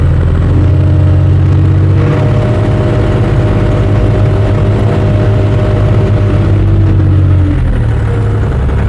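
The engine of a JoyT5 JT5WL1000 one-ton wheel loader drones steadily and loudly while the machine drives, a close, continuous mid-pitched hum with slight rises in revs.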